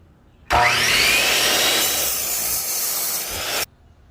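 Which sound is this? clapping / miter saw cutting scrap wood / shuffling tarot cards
miter saw cutting scrap wood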